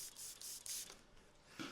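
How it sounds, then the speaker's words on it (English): Tack solution sprayed during a paint protection film install on a Norton Commando fuel tank: several short, faint hissing bursts from a spray bottle, close up and spaced irregularly, with quiet handling noise between them. "Spray our tack solution in there."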